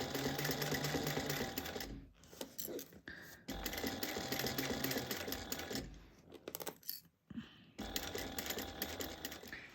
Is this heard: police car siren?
no